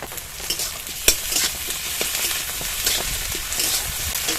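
Spices with ginger-garlic paste crackle and sizzle in a hot pan, with steady stirring scrapes and a sharp clink near the start.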